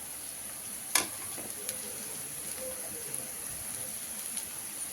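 Ingredients fry in a pan for a millet curry, a soft steady sizzle with a sharp clink near the start and light occasional taps of stirring, heard alone.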